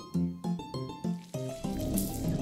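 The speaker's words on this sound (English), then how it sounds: "The splashing means it's working." Urine splashes into a toilet during a urine glucose test, a close burst of irregular trickling and splashing that turns into a steadier stream.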